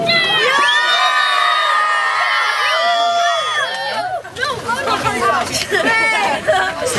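A crowd of children at a skatepark screams and shrieks together at high pitch, loud and close, dissolving into excited shouting and chatter.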